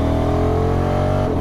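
A 2022 Honda NT1100 motorcycle engine pulls steadily in third gear at just over 4,000 rpm, a loud, continuous close-up drone with a slight dip in tone near the end.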